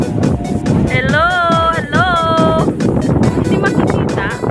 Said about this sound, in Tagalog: Kusugay ng hangin.